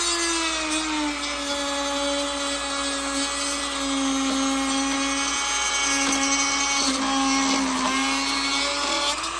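A rotary tool grinds steadily through the plastic housing of a 2017-or-later Subaru BRZ tail light, a continuous close whine that holds an even pitch for several seconds with slight dips as the cut load shifts.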